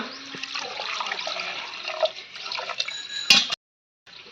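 Water pours and splashes steadily into a pressure cooker with mutton and ghee for haleem for a few seconds, with a brief clatter near the end before it cuts off.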